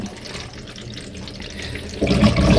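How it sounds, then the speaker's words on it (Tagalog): Water drains out of a washing machine with a constant rushing, splashing flow that swells louder and fuller toward the end. "i-drain muna natin, ubusin natin yung tubig"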